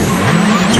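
A Peugeot 307 rally car stuck in a ditch during Rally Wales GB 2004 screams at high revs as its wheels spin, a loud continuous whine with no pause and no voices.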